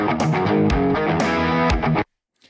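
A crunch-toned electric guitar riff from the Jonathan Bell Riffler plugin plays loud and alone, with choppy punctuated strums for two seconds, then stops abruptly with a faint tail.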